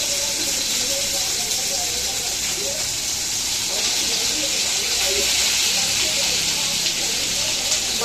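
Potatoes sizzling in hot oil in a kadhai, a loud, steady frying hiss with faint crackles throughout, close by, while someone talks over it.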